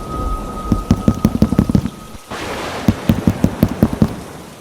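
Heavy rain pours steadily in a thunderstorm, with a dense hiss and a run of sharp crackling bursts before and after a brief lull, loud and close throughout.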